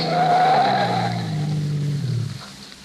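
A radio-drama sound effect of a car's tires squealing through a sharp turn, a loud sustained screech with engine roar that drops in pitch and fades out after about two seconds.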